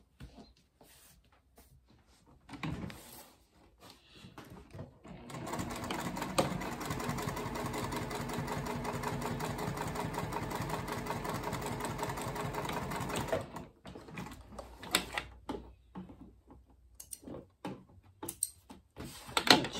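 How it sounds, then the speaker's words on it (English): A sewing machine stitches through a backpack, running in one long steady burst of rapid needle strokes after a few short starts, with handling clicks and bumps before and after. "I'm going to go to my machine. I'm going to stitch across here and across this bottom."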